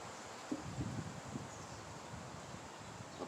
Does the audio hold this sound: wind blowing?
yes